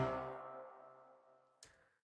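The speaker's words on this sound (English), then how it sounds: "we just have a trombone hit happening on all the downbeats right here at the top of the chorus and top of the post-chorus" A single trombone hit lands on a chorus downbeat in a pop track. It is one bright brass blast that fades over about a second and a half, followed by a short faint click.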